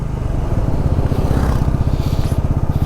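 A 220 motorcycle engine climbing a hill road, its loud, close, rapid rhythmic thrum pulsing steadily as it rides on, with no voices.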